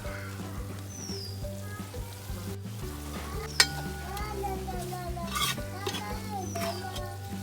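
Chili powder, turmeric and coriander powder fry in a pan for Kerala-style chicken curry, giving a steady close sizzle with irregular spatula scrapes and clinks against the pan, and no one talking.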